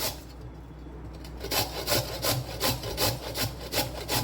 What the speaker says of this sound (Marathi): तर आता बीट मी हे किसून घेते।